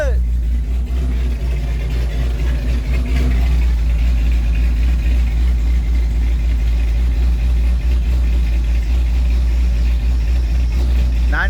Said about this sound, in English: sitting here idling, sipping on that E85.